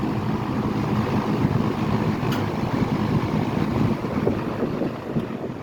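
A Westinghouse two-speed box fan running on its high setting gives a steady, loud broadband whoosh of moving air that holds even and unbroken throughout.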